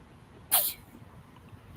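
A single sharp sneeze bursts out close by against quiet background noise, and a second brief burst starts at the very end. No one talks.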